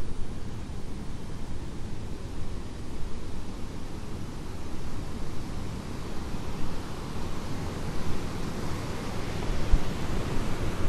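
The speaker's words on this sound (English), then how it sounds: "The grr of the water you'll hear as we pass over." Rushing water rumbling below a wetlands park walkway as a tour passes over, a steady, broad, low roar without pauses.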